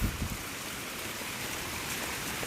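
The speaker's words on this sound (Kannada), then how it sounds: "ಫಾಲ್ಸ್ ಸೌಂಡ್ ಕೂಡ ಹತ್ರನೇ ಕೇಳಿಸ್ತಾ ಇದೆ" A nearby waterfall at Goyar Falls near Karwar, with rain falling, gives a steady, dense roar of rushing water that stays level throughout, with no voices.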